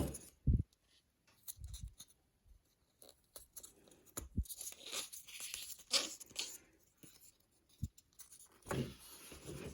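Electrical tape rips off its roll in several short, crackly tearing bursts, close by and fairly quiet, with softer handling rustles between them.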